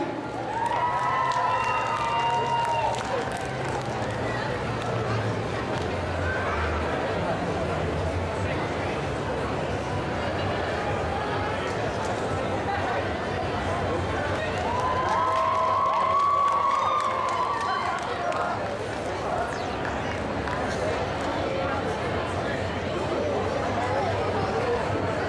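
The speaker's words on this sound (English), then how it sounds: "Give them a round of applause." At the SNAFU Con 2014 cosplay masquerade, an audience keeps up continuous cheering, whooping and applause for the walk-on contestants, with an amplified voice speaking over the crowd throughout.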